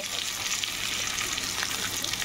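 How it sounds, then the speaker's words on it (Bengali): Onion sizzles in hot oil with black cumin in a wok, a steady, close, dense frying hiss with no talking. "আর এর মধ্যে এখন আমি পেঁয়াজটা দিয়ে একটু ভেজে নেব।"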